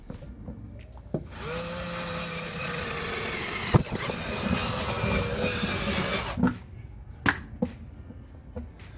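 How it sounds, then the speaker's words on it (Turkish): A power drill bores a pilot hole for a broken fan's stand, a steady close whirring drone lasting several seconds, followed by sharp knocks and clicks as the work pauses. "Şöyle bir kılavuz delik açarak başlayalım."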